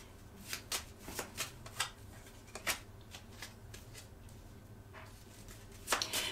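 A deck of playing cards is riffled and shuffled repeatedly, with crisp fluttering bursts and snaps spaced irregularly over a low background hum, fairly close and moderately quiet.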